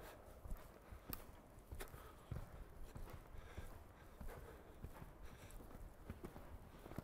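Horse hooves clip-clop at a steady walking rhythm in an arena during a riding training session, moderately near and fairly quiet against a soft background.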